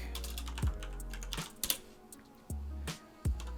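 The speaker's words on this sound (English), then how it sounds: "So we're going to type that in real quick." A command being typed on a computer keyboard during a Minecraft session, with several quick clusters of close key clacks and a few heavier thumps, likely the space or enter key, and no voice over them.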